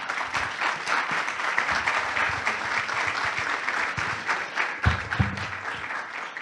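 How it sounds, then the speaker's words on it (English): Audience applause for panelists at a sustainability panel event, a dense, sustained clapping from a full room lasting several seconds at steady volume, with a few louder claps near the end. "Please join me in giving them a big round of applause."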